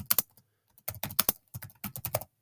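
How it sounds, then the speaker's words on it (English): Bursts of fast typing on a computer keyboard, sharp close key clacks in clusters separated by brief pauses, with no talking. "I'm going to type lorem, just hit tab to get some dummy text there."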